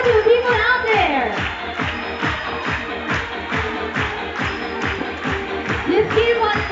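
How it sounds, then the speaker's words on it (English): Rhythmic clapping from a crowd at a bird show, regular and evenly paced throughout, heard beneath a loud announcer talking over a PA. "Just keep on clapping."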